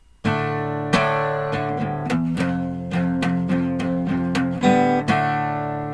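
A strummed acoustic guitar plays the A riff of a song unplugged, repeating steadily, full and sustained, with sharp strum attacks roughly every half second and chords ringing between them.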